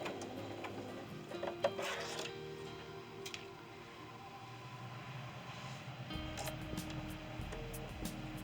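A sewing machine stitching a quilt medallion seam, a faint mechanical whirring and ticking with small clicks, running steadily and quietly in the background without talk.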